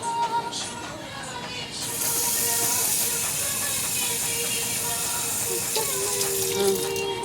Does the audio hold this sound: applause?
no